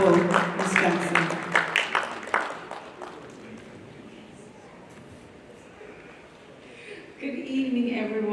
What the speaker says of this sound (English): Please, a round of applause for Ms. Jackson.